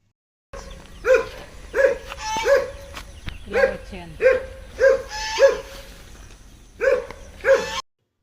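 A large caged dog barks repeatedly in short bursts, fairly close, with uneven pauses between the barks and a faint background hum.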